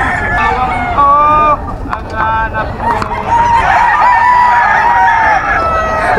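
A Sweater gamecock rooster at a game farm crows loudly and close by, with several strained, harmonic calls in quick succession, the last one long and drawn out.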